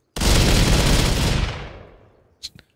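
Loud burst of video-game gunfire in a survival shooter, a dense roaring volley lasting over a second, then decaying into an echoing tail with a few sharp clicks at the end.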